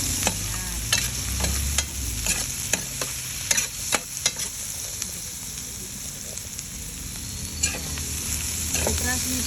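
Onion gets stirred into garlic frying in oil left from frying tofu: loud continuous sizzling with frequent clattering spatula strikes and scrapes against the pan, busier early on and sparser toward the end.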